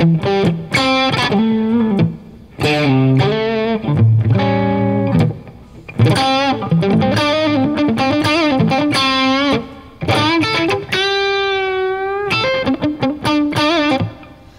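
Electric guitar through a Seymour Duncan Vapor Trail analog delay pedal plays distorted melodic phrases with sustained notes and trailing repeats, loud and close, with brief pauses between passages.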